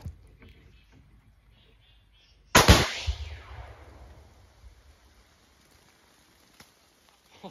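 Ten pounds of explosive detonates outdoors in a single sudden, loud blast after near silence, followed by a few seconds of crackling, pattering debris that gradually fades.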